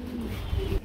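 Pigeons cooing at a pigeon market where breeding pairs are sold, a low throaty coo rolling along under a steady din of nearby birds, with no talking.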